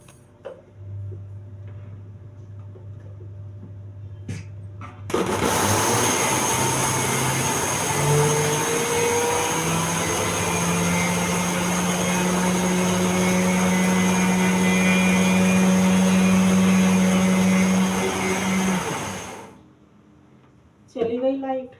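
An electric mixer grinder starts abruptly and grinds dried whole coriander seeds with a loud, steady whirring roar and a rising whine for about fourteen seconds, then winds down and cuts off, leaving a quiet room.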